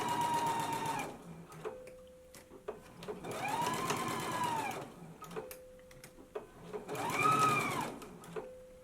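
A sewing machine stitches a jumpsuit shoulder seam at a 5/8-inch allowance in three quick whirring bursts, with quiet pauses and light clicks between runs, heard up close.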